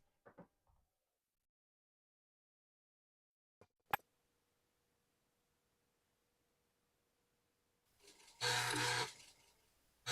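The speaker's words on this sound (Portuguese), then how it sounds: "Olha o barulhão que já faz esse drive" An old floppy disk drive in a computer fitted with ISA cards gives a few faint clicks and knocks, then a sharp clack, then a loud grinding whirr that bursts out for about a second near the end.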